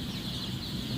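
Chicks of a dominant egg-laying breed in a poultry house, a dense, steady chorus of high cheeping from a large flock, close and continuous.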